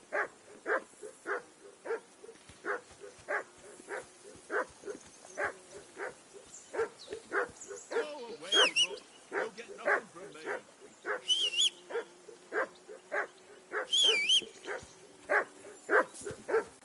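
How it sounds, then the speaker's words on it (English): Dog barking at a riverbank camp in the medieval game Kingdom Come: Deliverance II, a long steady series of evenly spaced barks, close and clear, with a few brief higher sounds mixed in. "call that dog to heel"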